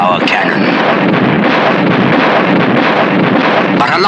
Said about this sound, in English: kept them at bay with our cannon